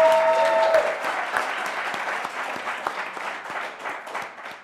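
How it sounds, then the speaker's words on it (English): An audience claps steadily, a dense patter of many hands that gradually thins out, with a brief tone at the start. "does deserve its own particular round of applause"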